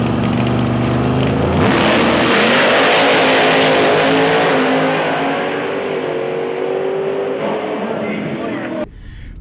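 A drag racing car launches off the line as the clutch is released, its engine roaring loud and close with rising revs and tire noise, then fading as it runs down the track, with a commentator talking over it.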